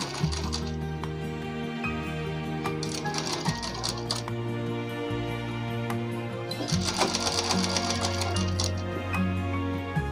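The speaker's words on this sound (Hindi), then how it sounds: "इस तरीके से पूरे गले पे सिलाई लगा लेते हैं।" Sewing machine stitching around a blouse neckline, rapid mechanical clatter in bursts with brief pauses and a low motor hum, close by with no talking.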